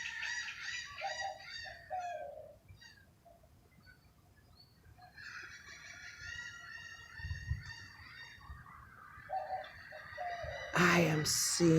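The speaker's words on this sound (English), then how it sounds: "I am seeing so many birds." Many geese and chickens call in a busy flock, with honks and clucks that come and go in bursts, at moderate distance. A loud burst of noise cuts in near the end.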